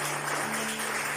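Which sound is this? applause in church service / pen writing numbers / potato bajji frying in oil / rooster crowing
applause in church service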